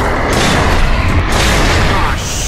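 Heavy guns explode during a Gears of War 3 cutscene, a loud, continuous roaring blast that swells and rumbles for a couple of seconds, with a voice shouting over it.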